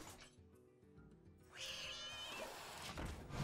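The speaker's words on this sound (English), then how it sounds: "Easy cat." A cat meows in the Hearthstone digital card game, a short voiced cry rising over layered game music and effects, with no talking.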